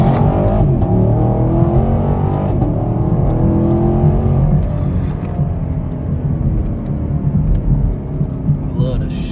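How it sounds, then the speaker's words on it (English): A Ford Mustang with a 10-speed gearbox accelerates hard from inside the cabin, its engine rumbling loud and rising in revs with shift changes along the way. "I love the shifts on the 10-speed."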